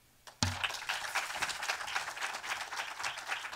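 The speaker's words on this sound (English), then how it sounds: "please give a warm and big round of applause for Judy" Applause from an audience at a panel event as a speaker is welcomed to the stage, a dense, steady clapping that starts abruptly after a brief pause and carries on evenly throughout.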